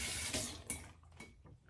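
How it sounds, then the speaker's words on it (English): Near-hot water running from a tap onto a synthetic shaving brush head, a close, steady rushing stream that thins and breaks into splashes before briefly surging again. "Just a little bit of near hot water on the brush head."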